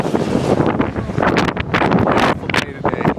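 Gusty wind buffets the microphone with rough, low rumbling bursts, loud and continuous throughout.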